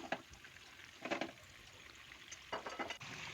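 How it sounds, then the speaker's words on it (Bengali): Chicken pieces frying in hot mustard oil for a Kashmiri tomato chicken give off several short, close sizzling bursts spaced across a quiet, low-level background. "এবার চিকেনের পিসগুলো আমি একটু একটু করে দিয়ে দিচ্ছি। ভালো করে ফ্রাই করে নেব।"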